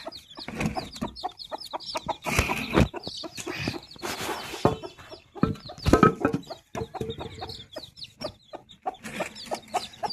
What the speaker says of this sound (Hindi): यहाँ पर है हमारी मुर्गी, इसके 6 बच्चे हैं।